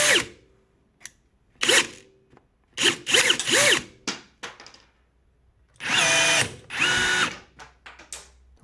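A cordless rivet gun fires in short bursts while setting 6 by 16 mm steel rivets, each rising whir ending in a snap, with quiet clicks between pulses and two longer runs near the end.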